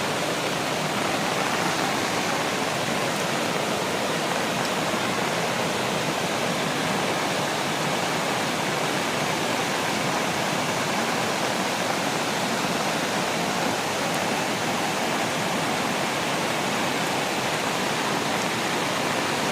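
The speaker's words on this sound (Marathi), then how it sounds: "ह्या धरणामधून मेन पाणी किती जातं" Water rushing out of a newly built dam, a loud, continuous roar of flowing water heard close up without a break.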